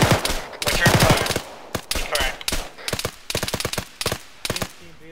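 Rapid bursts of automatic gunfire as a team returns fire in a military shooter video game, loud and close, repeated volleys in quick rhythmic clusters with short gaps between them.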